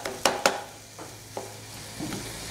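Kefta meat goes into a pan of frying greens as a filling for msemen and is stirred, a few sharp spatula scrapes over a faint, steady sizzle, close and with no talking.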